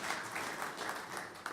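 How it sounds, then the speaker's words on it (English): An audience claps steadily for panel speakers at a methanol industry panel, a continuous mid-distance patter of many hands with no voices over it. "give a round of applause for our"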